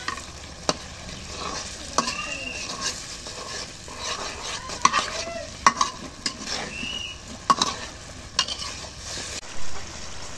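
Spice paste for biryani stir-fried in a pan, with steady sizzling and frying under repeated scraping and stirring strokes of a spoon against the pan, close up and continuous, no talk.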